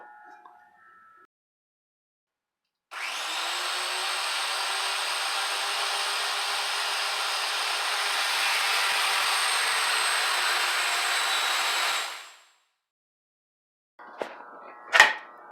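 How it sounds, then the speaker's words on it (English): A chainsaw starts up and runs in one long, loud, steady buzzing cut through aspen wood of about nine seconds, then winds down, followed by brief clattering. "I have to do this with a chainsaw because I don't have a bandsaw"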